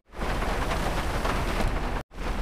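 Rain in the video game GTA 5 falls as a dense, steady rushing hiss, loud and close, cutting out abruptly for a split second before resuming.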